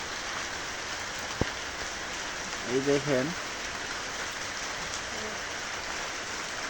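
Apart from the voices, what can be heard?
rain falling outside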